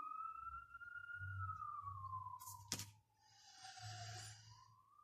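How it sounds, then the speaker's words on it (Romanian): A wailing siren sweeps slowly up and down at a distance, steady and continuous, with a brief sharp click partway through and low background rumble. "Am auzit o salvare."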